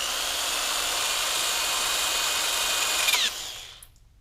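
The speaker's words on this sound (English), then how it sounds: "let's go ahead and drill that plug out." A power drill whines steadily while boring out a plug on a Mercury 9.9 outboard carburetor, a loud close high-pitched buzz that ends abruptly and winds down after about three seconds.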